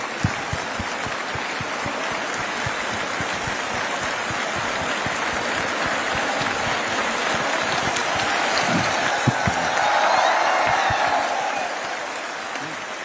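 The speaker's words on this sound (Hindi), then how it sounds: "जोरदार तालियां बजती रहे" Long, steady applause from a large crowd welcoming the chief minister of Chhattisgarh at a public event, dense clapping holding strong for many seconds with a slight swell near the end and a voice talking faintly over it.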